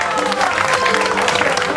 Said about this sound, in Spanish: Un aplauso para Naolinco.